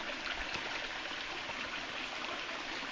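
A creek runs over exposed bedrock on a warm, sunny day, giving a steady, even rush of flowing water with a soft, continuous splash that holds at the same level throughout.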